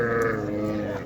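Ewes and lambs bleating at the Qarshi Karvon livestock market: a near, drawn-out sheep bleat over a background murmur of the crowded market.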